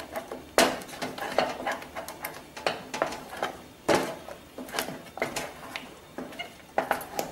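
A utensil scrapes and knocks against a pot as thick pearl millet porridge dough is stirred. The clattering strokes are close and come in an irregular rhythm with no talk.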